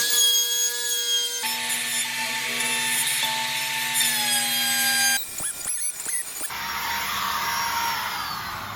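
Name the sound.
router trimming Formica countertop edges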